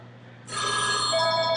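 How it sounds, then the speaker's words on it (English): A cell phone ringtone starts abruptly after a brief quiet moment and rings on loud and steady with bright tonal notes, close to the phone and with no talking over it. "you guys are going to hear my fun ringtone now."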